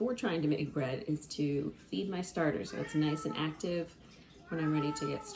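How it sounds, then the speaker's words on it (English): A pet cat meows in a home kitchen during bread-starter feeding, its cries mixed with someone talking steadily nearby. "And that's my cat"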